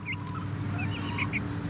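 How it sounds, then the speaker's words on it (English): Hens in a backyard chicken coop, four birds, give soft, scattered clucks and short chirps over a steady low hum, close by and fairly quiet, with no talking. "So here is my chicken coop that I just got. I've got four chickens in here."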